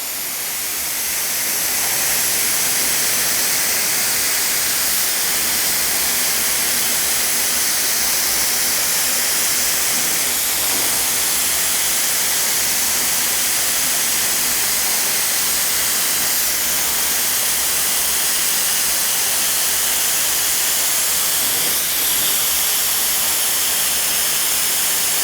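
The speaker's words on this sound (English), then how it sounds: "So I'll grab the gun, my respirator, and we'll spray this next coat." A spray gun hisses steadily as it lays a coat of gesso primer onto a canvas, a loud, continuous broadband spray that runs unbroken for the whole stretch.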